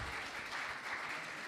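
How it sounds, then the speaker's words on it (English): Brief burst of audience applause after a talk at a temple gathering, a dense, even wash of many hands clapping at low level with no gaps or voices. "Let's give another round of applause for Prabhu."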